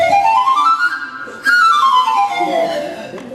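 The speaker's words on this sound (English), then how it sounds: "I call it a panpipe because Peter Pan had one." A panpipe-type whistle gives sliding notes, first a rising sweep, then a sharp new attack and a long descending glide, loud and near with faint background noise.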